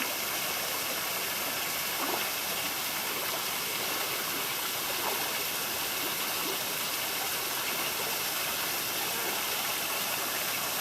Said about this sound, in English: Not much of a waterfall, but there's something